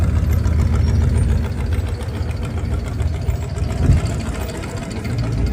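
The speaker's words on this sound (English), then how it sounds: "427 Cobra engine on it," A 427 Cobra V8 with side-mounted exhaust pipes rumbles steadily at idle nearby at an outdoor car show, a deep continuous low-pitched throb with slight lope and a brief bump in loudness near the end.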